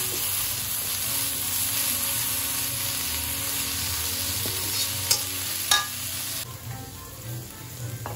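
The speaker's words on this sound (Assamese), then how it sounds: "এয়া সিজাই ৰখা বেবি কৰ্ণখিনি একেলগে দি এনেদৰে ভাজি ল'লোঁ" Boiled baby corn fries in a pan for a mayonnaise cheese pasta, producing a continuous sizzle with stirring. A few louder clinks come near the end, and nobody speaks.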